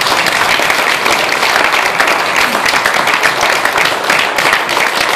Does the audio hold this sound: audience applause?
yes